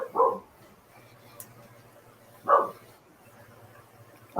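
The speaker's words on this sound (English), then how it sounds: "The animal is barking." A dog barks three times at spaced intervals, moderately close, with quiet background between barks.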